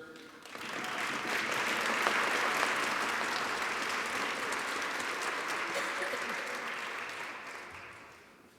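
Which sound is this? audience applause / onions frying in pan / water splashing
audience applause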